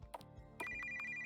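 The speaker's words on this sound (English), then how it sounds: "Oh, that's my phone. What kind of old-timey ringtone is that?" An old-timey telephone ringtone trills from a phone in the video game Silver Thread Deux, a bright, steady electronic ring that starts abruptly after a few soft taps and holds through to the end, with no talk over it.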